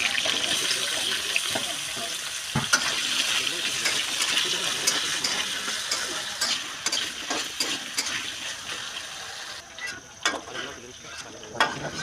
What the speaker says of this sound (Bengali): কুমড়ো তুলে নিয়ে এই তেলের মধ্যে আলু দিয়ে দেবো। আলুটাও একটু ভালো করে ভেজে নেবো।